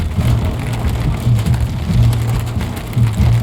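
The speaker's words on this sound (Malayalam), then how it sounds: "നല്ല മഴയല്ലേ? നല്ല അടിപൊളി മഴ," Heavy rain falls in a dense, steady wash of drumming, loud and close, with a low rumbling hum running underneath.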